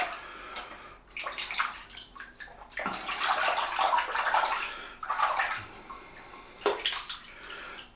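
Water runs and splashes from a tap as a safety razor is dipped to warm its head during a wet shave, coming in uneven gushes and sloshes close by with short pauses between.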